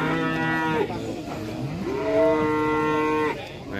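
A black Simmental cow moos in a long, loud, tonal call that dips, then rises and holds in a second drawn-out bellow, close by and without talk.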